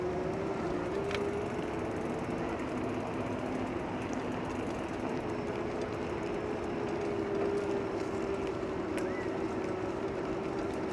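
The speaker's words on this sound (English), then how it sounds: "Just love the whirring sound of this bike when you're just cruising slowly." Electric bike motor whirring steadily while cruising slowly along a waterfront parkway, a continuous even hum with faint mechanical ticking, up close and without talk.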